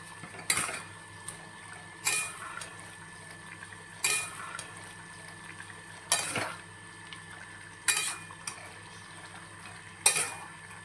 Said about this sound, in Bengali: ধনিয়া গুঁড়োটা দিয়ে দিলাম। ভালো করে নাড়াচাড়া করে নেব।